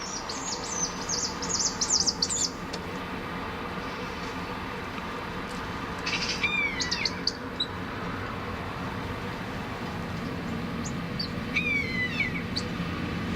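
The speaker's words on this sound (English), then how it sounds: "Now let's try the sound of a calling buzzard." A recorded buzzard call played to chickens outdoors: several high, descending mewing cries, a few seconds apart and moderately faint, over a steady rumbling background.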